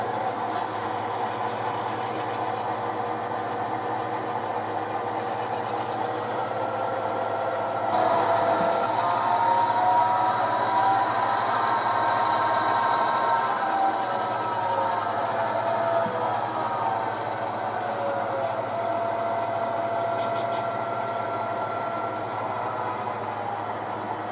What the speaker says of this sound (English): I got to move these two engines out of the way first. I'm just going to move them over to another track